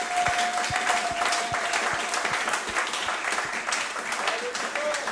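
A church congregation bursts into lively applause and cheering at a sermon, a dense wash of clapping with rhythmic claps standing out and voices calling beneath it.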